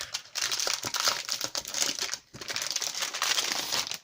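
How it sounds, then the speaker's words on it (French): Packaging is torn open around a newly bought plain black photo album, giving loud, close crinkling and crumpling that continues almost nonstop with one brief pause. "je me suis trouvé cet album, je vais vous l'ouvrir"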